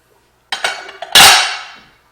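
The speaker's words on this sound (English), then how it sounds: "Mix it all in there." A utensil clinks against a bowl while mixing green chile cheese cornbread batter with shredded cheddar. A few sharp knocks lead into one loud, fading scrape, all close up.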